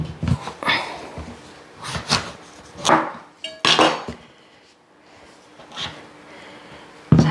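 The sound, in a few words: cutting pumpkin with a knife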